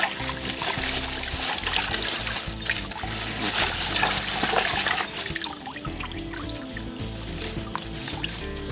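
Plain water runs and splashes steadily while a tie-dyed T-shirt is rinsed, a continuous close trickle and slosh with no talk over it.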